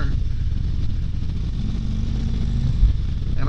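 A 2023 Harley-Davidson Street Glide Special with the 114 engine rumbles steadily while being ridden, a deep, low exhaust drone mixed with wind noise throughout.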